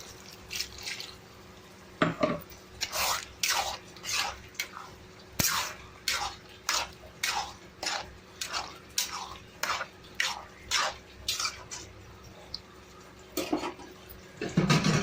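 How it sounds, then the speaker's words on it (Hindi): Tomatoes being stirred into a fish curry in a pan, repeated soft wet scraping and sloshing strokes in a steady back-and-forth rhythm, close and moderately quiet. "इसमें हम डाल देंगे टमाटर।"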